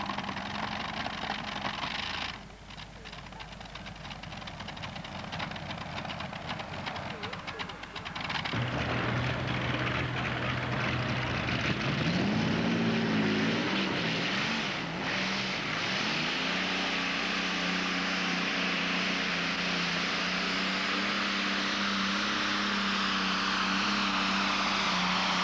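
Milton Bergman's alcohol-fuelled, Allison-engined pulling tractor thunders down the track at a 1987 NTPA tractor pull, a loud sustained engine roar that swells and holds steady with no voices over it.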